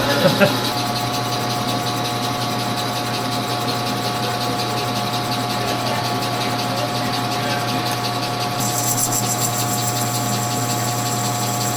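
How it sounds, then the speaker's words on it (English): A power grinder works down a worn clutch hub from a 1949 Indian Scout motorcycle, holding a steady droning whine with a continuous hum from start to finish, loud and close, without a break. "Oh, you're gonna just grind the whole thing down."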